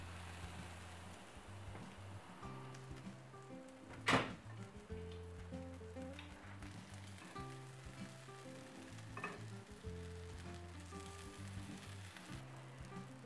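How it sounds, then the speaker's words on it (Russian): A steady, soft sizzle of kefir pancake batter with cottage cheese and pumpkin frying in a covered pan over medium heat, with a faint background hum and one brief knock near the start. "Жарим на среднем огне под крышкой."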